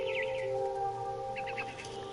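Bird chirps in the video game What Remains of Edith Finch, a few quick high tweets at the start and a short burst of repeated chirps later, over a soft steady tonal hum of game ambience.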